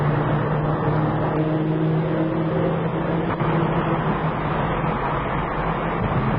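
A car driving through the new Dartford Tunnel under the Thames, heard from inside as a steady, dense road-and-engine roar with constant tunnel rumble and no break.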